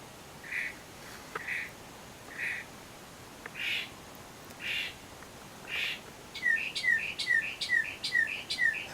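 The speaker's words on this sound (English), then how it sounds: "but I can't go to sleep with this bird." A loud bird sings through the night in Sylmar with spaced, repeated whistled notes, then breaks into a fast run of sharp chirps near the end, close and alone in a quiet setting.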